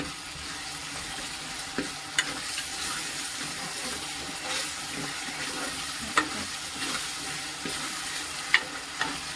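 Ginger-garlic masala paste is stirred into a sizzling pan of chicken curry: a steady, close frying hiss broken by occasional sharp clicks of the spoon against the pan.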